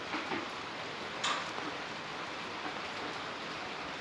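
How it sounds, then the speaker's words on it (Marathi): Steady rain falls continuously over a residential area of Arjun Nagar, Amravati in the early evening, a dense, even hiss of drops on surfaces with occasional sharper ticks and no voices. "बऱ्यापैकी पाऊस पडतो आहे."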